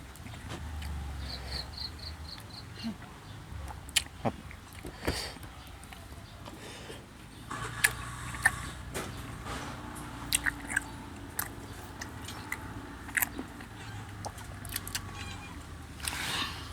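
Close, wet chewing of fatty grilled beef, Thai crying tiger, with sharp crunchy bites and squishy mastication scattered over a quiet background, and a few faint chirps early on.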